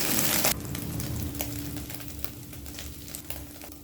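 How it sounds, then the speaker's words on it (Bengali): Eggs frying in a pan over a high flame, a steady broadband sizzle throughout with a brief louder burst at the start and occasional faint scrapes, close and alone. "হাই ফ্লেমে 4 মিনিট ডিমটা ভেজে নিয়েছি"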